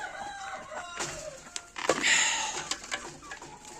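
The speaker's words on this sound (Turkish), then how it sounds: "Arap horozumuz bu." An Arab rooster crows loudly and close by, one drawn-out call with a few clucks from other chickens around it.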